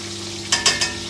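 Beef and onions for Mongolian beef frying in a pan, with a soft background sizzle and hum broken by three quick scraping stirs close by.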